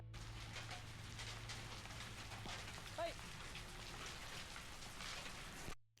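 Hail falls steadily in Rimetea village, Romania, as a dense, even patter that continues throughout the clip before cutting off abruptly at the end.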